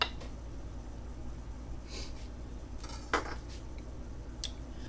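A knife cuts a bite-sized piece from a medium-rare, seared steak on a plate, making a few faint, brief scrapes and clinks over a steady low hum.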